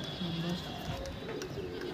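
Soft, low pigeon coos repeat in short phrases, layered with chirps and background chatter throughout.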